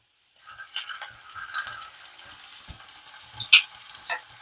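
Ginger garlic paste and onions frying for a ridge gourd curry make a light, close sizzle with scattered spoon scrapes and small clicks, quiet and uneven, starting after a short silence.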